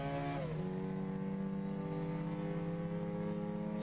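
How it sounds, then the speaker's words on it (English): A Gran Turismo 6 race car engine's steady drone drops in pitch as the revs fall off, then holds a lower, sustained hum, continuous and fairly loud with no talking. "Listen to the revs falling off."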